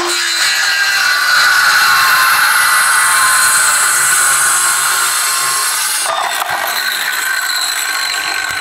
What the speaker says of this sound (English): Now I'm gonna cut this into 5mm strips.